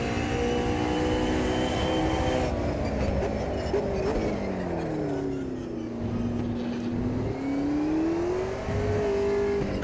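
A race car engine drones and revs in Automobilista 2 at Monza, its pitch sliding down under braking and then climbing again as it accelerates, steady and fairly close throughout.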